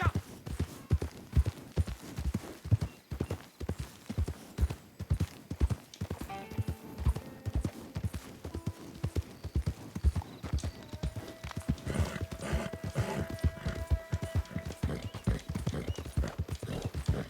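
Horse hooves clip-clopping in a steady rhythmic gait in a Rockstar video game, close and clear for the whole stretch, with a brief whinny and faint ambient game tones joining partway through.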